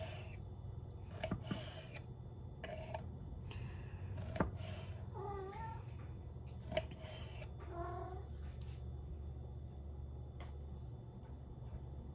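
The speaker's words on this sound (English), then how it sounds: "And my cat's begging for some scraps." A cat begging for food meows a few times in short, rising calls, close by, as chicken is prepared, over a steady low hum with occasional light clicks and kitchen clatter.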